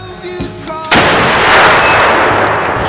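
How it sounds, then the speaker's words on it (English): A loud gunshot blast from a military shooter video game hits abruptly after a brief musical passage, its heavy boom and rumbling tail filling the rest of the moment. "Shots fired! Shots fired!"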